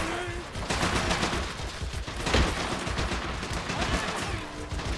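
Rapid gunfire in the online battle game Men of War: Assault Squad 2, dense overlapping shots and bursts, with a loud crack near the middle, running steadily through the whole stretch, with game voices underneath.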